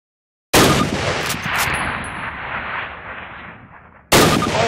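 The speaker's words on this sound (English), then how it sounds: "Now fire 2 rounds at your target while aiming down your sight." Rifle fire at targets in the video game Call of Duty: United Offensive: a loud, sustained blast with a long rumbling decay, then another sharp shot at the end, with no talking.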